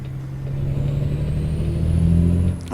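A Peterbilt 379 truck engine from the American Truck Simulator game idles as a steady, loud low drone with a gentle rise in pitch, heard alone with no talk.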